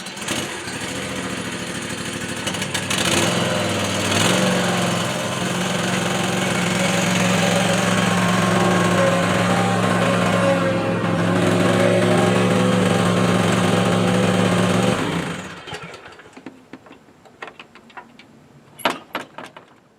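An Ariens Icon X 52-inch zero-turn lawn mower engine runs loud and steady with a droning hum for most of the clip, then cuts off, leaving faint scattered clicks and knocks.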